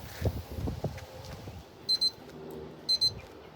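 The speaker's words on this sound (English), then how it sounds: "Okay, there's our timer." Two short bursts of repeated high beeping from a smoker thermometer's timer alarm during a ribeye roast smoking session, ringing out over low background rumble and handling noise.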